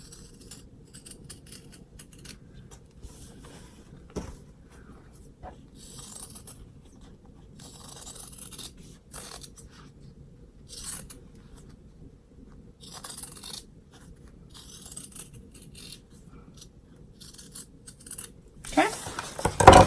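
Scissors snipping through fabric while sewing a zip-top bunny bag: repeated close, crisp cuts in irregular bursts, with a soft rustle of cloth between them.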